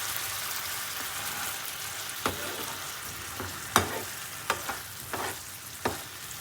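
A cornflour mixture hisses and bubbles in a hot pan for street-style cabbage manchurian, a continuous close sizzle with occasional spatula scrapes and taps while it is stirred, no voices.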